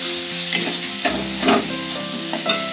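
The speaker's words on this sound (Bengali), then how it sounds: "মাছগুলো এখন কষানো হয়ে গেছে, মশলা থেকে তেল ছেড়ে গেছে।" Prawns and fish sizzle in spiced oil for a Bengali prawn curry with taro, frying steadily up close while a utensil stirs and scrapes the pan in brief bursts, with no talking.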